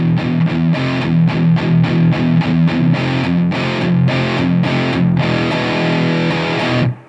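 A Mesa/Boogie Fillmore 50 combo amp plays heavily distorted electric guitar: loud, gritty chugging riffs with rhythmic palm-muted bursts and sustained chords before cutting off.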